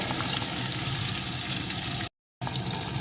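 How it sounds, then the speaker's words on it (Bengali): Half a medium onion, chopped, fries in a pan for a potato curry, a loud constant sizzling hiss close by, briefly cut to silence before resuming, with no speech. "এখন পেঁয়াজটাও একটু ভেজে নেব"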